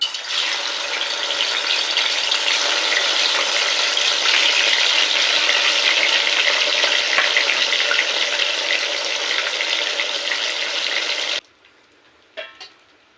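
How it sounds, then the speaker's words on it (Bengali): Pieces of katla fish fry in hot oil in a wok with a loud, dense, continuous hiss that stops abruptly near the end, followed by a couple of faint clinks. "একে একে সমস্ত মাছ আমি হালকা লাল করে ভেজেছি"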